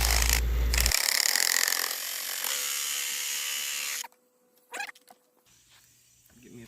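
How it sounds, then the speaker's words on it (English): A power saw cuts wood for a small homemade boat, a loud, harsh buzzing run that stops abruptly, followed by quieter knocks and handling of the workpiece. "he could no longer use the handsaw on this project and had to move to a bigger saw"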